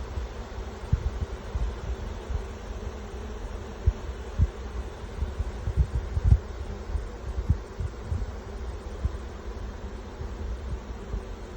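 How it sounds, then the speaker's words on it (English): A honeybee swarm hangs in the air while settling, giving a steady low droning hum with scattered soft thumps and bumps close by, continuing throughout with no voices. "There's quite a few bees in the air, maybe but they seem to be settling in"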